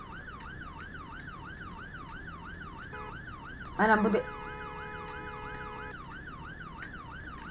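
A wailing vehicle siren in the Roblox Brookhaven game, a steady rising and falling tone running the whole time, with a short burst of a voice speaking partway through.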